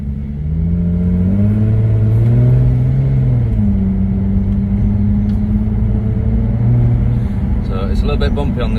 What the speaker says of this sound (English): So into drive, sport mode, dynamic on, loud button on.